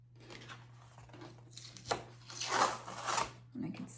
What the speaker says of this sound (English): Take the tape off.